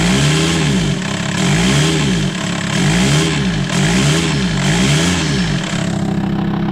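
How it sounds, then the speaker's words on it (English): A VW T5 van engine, just repaired after a warped exhaust manifold, revs repeatedly under throttle in loud, steady up-and-down sweeps, close and continuous with no talk. "Let's start with some throttle."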